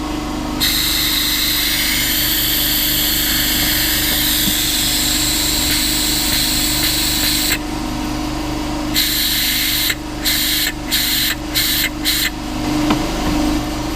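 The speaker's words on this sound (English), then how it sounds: "I've got my air hose hooked up to my vacuum pump. I've got the vacuum pump hose down inside my brake master cylinder reservoir" Air-powered vacuum pump, run from an air hose, sucking old brake fluid out of a brake master cylinder reservoir: a loud, steady close-up hiss with a low hum that cuts out briefly several times near the end. No one speaks.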